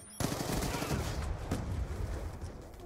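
MTAR rifle firing in a shooter game, a sudden close burst of rapid automatic shots rattling on for almost three seconds at steady loudness, with a sharper crack midway.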